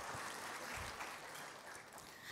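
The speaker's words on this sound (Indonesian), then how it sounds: "Tepuk tangan untuk Atomi luar biasa kan?" Faint applause patters steadily from an audience at an Indonesian marketing plan presentation, a continuous wash of clapping heard from a distance with no speech over it.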